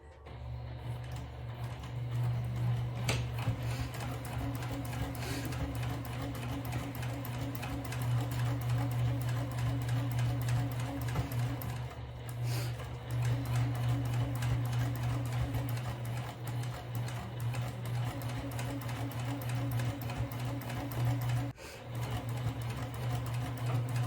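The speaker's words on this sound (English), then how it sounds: "I'm here in the sewing machine. I'm leaving this gap open." A sewing machine runs a steady, continuous stitch along a round bag seam at a 3/4 inch seam allowance, nearby and unbroken apart from a few brief pauses.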